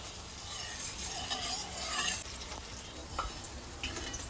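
Mustard oil sizzles in a hot wok, a steady close crackling hiss with occasional scraping clicks and no talk.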